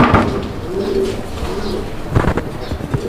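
Low, throaty pigeon cooing repeats in rolling phrases, close and clear, with a little rustling underneath.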